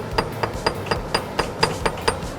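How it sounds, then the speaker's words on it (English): A metal earring is struck with a hammer during handmade jewelry work: about nine sharp, evenly spaced taps, each with a brief metallic ring, close and clear. "then we're gonna hammer it."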